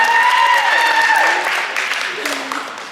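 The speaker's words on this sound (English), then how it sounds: "Give her a big round of applause, everybody." An audience at a high school post-prom show claps and cheers after a correct quiz answer, loud crowd applause with whoops and voices mixed in, easing down toward the end.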